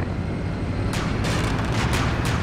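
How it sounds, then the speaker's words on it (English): Heavy weapons cannon fire in the military video game Arma 2 rumbles as a continuous rough roar, with several sharp louder bursts following in quick succession from about a second in. "I'm hearing a heavy weapons fire."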